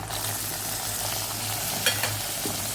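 Onion, tomato and green chili sautéing in a pan for chicken gizzard pepper fry, a close continuous sizzle with a few light scraping stirs near the end, no talk.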